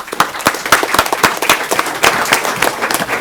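A council meeting audience in Brawley gives a round of applause, with scattered, distinct individual claps rising and falling over several seconds and a light crowd murmur beneath.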